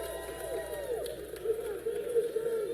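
Home crowd at a BYU versus Ohio State gymnastics meet, a lively murmur of an arena audience with scattered cheers and whoops, steady and moderately loud with voices mixed in.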